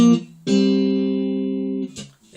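The opening phrase of a riff picked on the third and fourth strings of a guitar: a brief note, then a longer ringing double-stop that slowly fades before a final quick note, close and clear.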